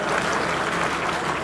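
Loud, dense clapping from a crowd welcomes the organizers at an election rally in Ladnun.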